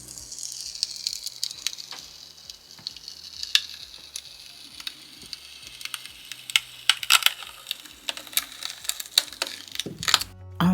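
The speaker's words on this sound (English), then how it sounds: "taking off the back liquid latex" Liquid latex backing is peeled off a resin piece, giving a close, continuous crackly tearing and sticky crinkling with scattered sharp snaps throughout.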